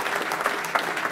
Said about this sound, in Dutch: Dan een hartelijk applaus voor jullie presentatie